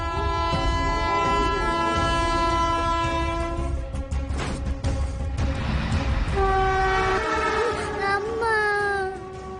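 A train passes close by, its horn blaring in long, loud tones that shift in pitch over the rumble and rattle of the cars, then fading near the end.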